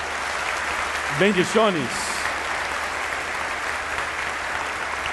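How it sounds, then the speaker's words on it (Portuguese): An audience applauds Argentina at an evangelical gathering, with steady crowd clapping throughout while a voice briefly speaks over it midway. "um aplauso para a Argentina"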